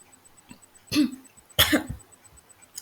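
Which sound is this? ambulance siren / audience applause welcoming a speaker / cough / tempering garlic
cough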